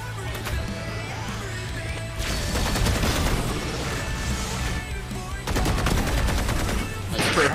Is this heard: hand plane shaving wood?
no